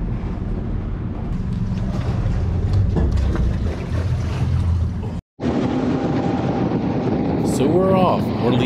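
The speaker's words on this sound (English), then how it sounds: "Here comes a boat right now." A boat engine rumbles steadily on open water off Venice, Louisiana, near the shrimp fleet, with wind buffeting the microphone, a brief dropout midway, then the motor continues near.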